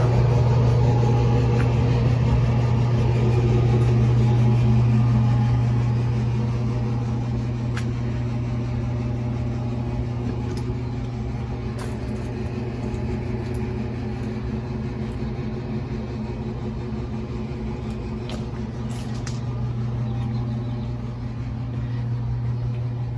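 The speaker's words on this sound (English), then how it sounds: "I'm not quite sure why my cooler is on." An evaporative cooler running indoors, a steady low droning hum with a constant tonal whine, louder for the first few seconds and then settling to an even level.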